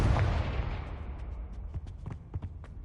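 Confringo blast spell in Hogwarts Legacy, a loud booming explosion at the start that fades into a rumbling tail, followed by a scatter of sharp crackling pops and thuds.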